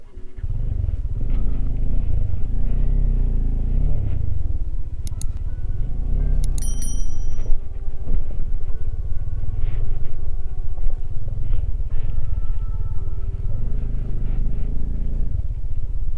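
A Bajaj Dominar 400 motorcycle rides offroad on a rough trail, its engine droning steadily and loudly throughout with clinks and rattles over bumps, no talking heard.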